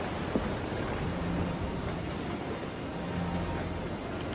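A storm at sea in Assassin's Creed Freedom Cry: dense, steady rain hiss with low rolling thunder underneath, continuous and moderately loud, with no voices.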